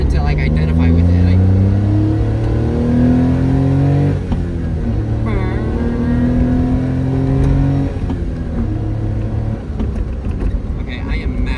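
A Honda Beat speeding with its engine revving, the note climbing and falling in repeated surges while a person talks over it close by.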